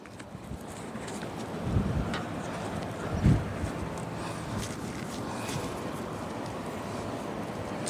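Steady wind buffets the microphone in a constant low rumble, with a couple of heavier gusts thumping through.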